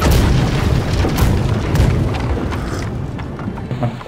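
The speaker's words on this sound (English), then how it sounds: "We just got hit by a mortar." A mortar round slams into a ship during a Blackwake naval battle: a loud, close, heavy boom with rumbling impact bursts, followed by a continuous rolling din of further thuds and debris.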